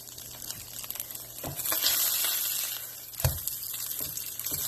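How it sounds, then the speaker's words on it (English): A slab of liver mush frying on a home stove, a soft steady sizzle with brief louder crackles and a clatter from the pan partway through. "There's a piece of Jenkins that's frying up."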